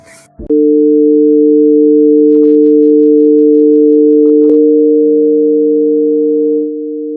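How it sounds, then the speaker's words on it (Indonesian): A sustained, dissonant wolf fifth interval rings out as two steady tones in an old, flawed tuning system, loud and unbroken for several seconds after a brief click, with no one speaking. "ada satu interval disonan yang saking aneh suaranya sampai dijuluki Wolf Fifth"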